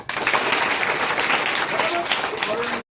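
Loud, sustained clapping from children and staff at a school fair in a village primary school, a dense steady burst that holds at full strength and then stops abruptly.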